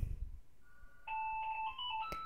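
A phone rings in a Happy Wheels game, a short electronic ringtone of steady two-tone beeps that starts after a thump and carries on alone, clear and fairly close.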